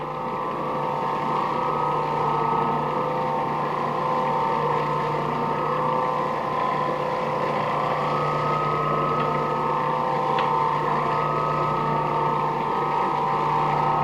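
An Oreck Orbiter floor machine spray buffing a waxed floor gives off a loud, unbroken motor hum with a steady mechanical drone and whir, constant and close for the whole stretch, with no talk.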